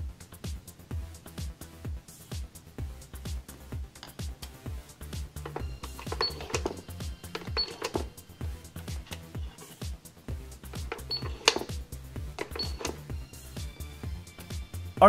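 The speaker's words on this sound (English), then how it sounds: "This cash register also takes credit cards." A toy McDonald's cash register operated over and over, with repeated clicks, clacks and short electronic beeps in an irregular rhythm, close and moderately loud, with no talk.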